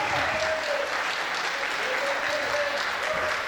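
A crowd applauds at the Reine Prodige Hauts-de-France 2022 pageant election, a steady, dense wash of clapping lasting the whole stretch, with faint voices faintly audible underneath.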